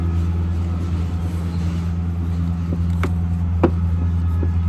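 Lawn mowing by local authorities goes on outside as a constant low engine drone in the background, with a few faint clicks and knocks over it and no talking.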